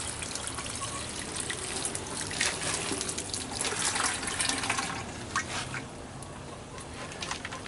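Water trickles and splashes steadily into soil, pouring for several seconds before tapering off to a lighter dribble.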